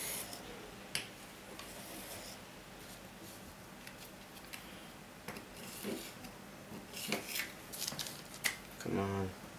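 Scissors cutting material for a beetle craft tutorial, heard as scattered snips and rubbing, louder near the end, with a voice talking at times.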